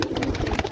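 A pigeon close by gives a brief, soft cooing call lasting under a second.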